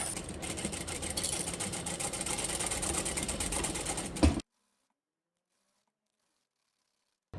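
A sewing machine back stitches a seam on a fully lined fabric tote bag, running in a steady, close, rapid mechanical rattle for about four seconds before stopping abruptly into silence.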